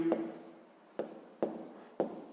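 Pen strokes writing out the second step of a sixth-grade math exercise: four short, scratchy bursts spaced about half a second apart, close and fairly quiet, with no talking.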